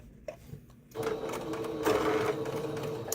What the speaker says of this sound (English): My sewing machine is not liking that.